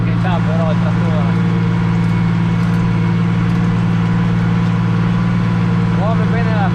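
A tractor pulling a plough through farm soil gives a loud, steady, low engine drone that runs unbroken from start to finish, with a brief voice audible near the beginning and again near the end.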